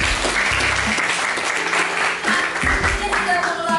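A classroom of students claps together in a short burst during a physics teaching session, with voices and chatter mixed in around the clapping.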